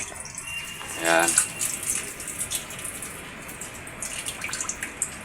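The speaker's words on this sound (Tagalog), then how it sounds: "Akin muna pong i-off dito ang gripo." A water tap feeding an LG twin tub washing machine that is not draining runs steadily, then the flow fades and trickles off with drips as the faucet is turned off. A short spoken word sounds over the water.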